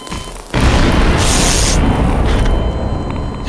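An object explodes in Garry's Mod in a Poolrooms setting after a touch from the Gravity Gun. A sudden loud, close blast rolls into a long sustained roar that fades only slightly.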